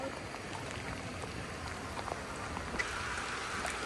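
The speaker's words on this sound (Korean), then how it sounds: "네, 비가 와서 지금 다들 나무 밑에 모여가지고 쉬었다 갑니다." Rain falling outdoors on a roadside stop in India, a steady soft hiss of drops and patter, fairly faint and even throughout with no voices.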